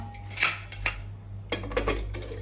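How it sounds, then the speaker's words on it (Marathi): A pressure cooker holding pulav rice and water being fitted with its whistle, several close metallic clinks and taps in short bursts, with no talk. "तर आता आपण कुकरची शिट्टी लावूया"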